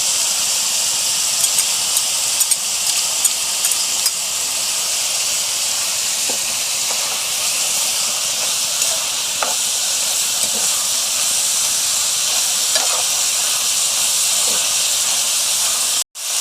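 Pork and kimchi stir-fry in a hot pan, a loud, continuous hiss of frying that holds steady for the whole stretch, with occasional faint scrapes and taps of the spatula.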